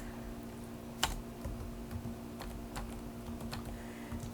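Keystrokes on a computer keyboard enter dates into a Word table, heard as a short run of soft, close clicks with one sharper key hit, alone and without talk.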